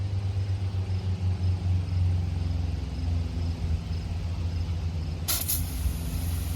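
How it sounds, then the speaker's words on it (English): RV 12-volt water pressure pump runs steadily, pressurizing a hose line outdoors, a continuous low droning hum with a short hiss burst near the end. "You can hear the pump running, pressurizing this line."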